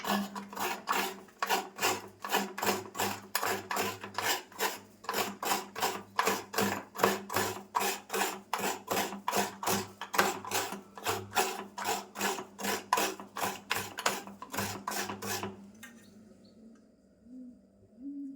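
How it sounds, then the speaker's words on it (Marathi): Fresh coconut is grated by hand in a kitchen, giving a steady series of rhythmic raspy scraping strokes, close and fairly loud, that run for about fifteen seconds and then stop. "मी नारळ आता किसून घेते"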